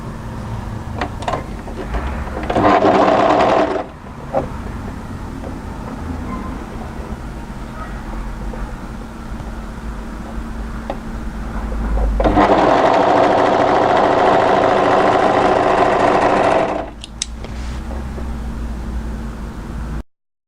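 Sewing machine stitching a cardigan seam in two loud bursts, each running a second or two, with a quieter hum between runs and no talk.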